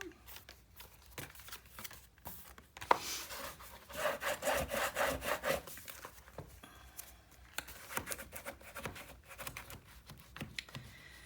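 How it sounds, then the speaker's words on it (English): Paper on a Graphic 45 Merry and Bright 9 x 9 mini album burnished with quick rubbing strokes, a burst of close scraping in the middle with quieter rubs and taps before and after. "Let's burnish everything."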